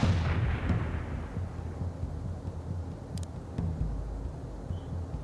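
Molotov cocktail strike in the World in Conflict video game, a heavy burst at the start that decays into a low, windy rumble and crackle, with faint distant pops afterwards and no talking.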